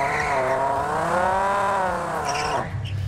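Synthesized car exhaust from the Krotos Igniter plugin, a loud rising engine drone with smooth harmonic sweeps that revs up, holds, then drops off abruptly near the end into a low idle rumble.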